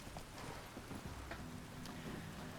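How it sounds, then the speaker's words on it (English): Horse hooves clip-clop steadily in the Witcher 3 game, a soft, even trotting rhythm under low ambient game noise and a faint background hum. "Come here, ghost horse."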